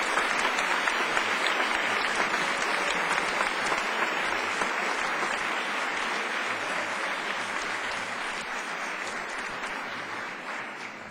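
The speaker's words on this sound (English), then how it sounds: "Can we have another round of applause for Ms. Principal Wright?" Audience applause at a ceremony honoring a retiring school principal, Ms. Wright: steady, dense clapping from a large crowd, sustained and loud throughout and tapering slightly near the end.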